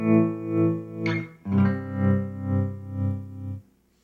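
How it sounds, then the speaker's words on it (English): Electric guitar played through a tremolo effect turned up high: sustained chords pulse in a steady rhythmic wobble, about two swells per second, loud and close, with a brief strum change midway and no talking. "Then you have a tremolo, which just gives kind of the wah wah wah."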